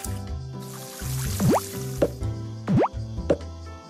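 Crops are watered in the farming video game Doraemon Story of Seasons: a quick series of wet splashes, drips and squishy plops with springy rising chirps, over soft looping game music.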